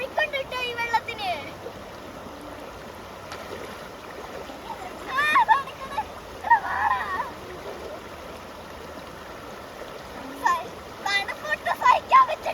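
Splashing and wading through a swift, strongly flowing river, with bursts of water sloshing up close over a steady rush of current; voices are present in the background.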